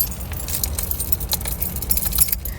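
Keys jangle close up in a continuous metallic rattle, with a faint low rumble like a car interior underneath.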